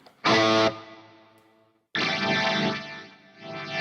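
Guitar and organ tones running through an Axe-Fx preset, heard as a bright distorted chord burst, a decaying tail, then a sustained chorus-washed chord swelling with echo, no talking.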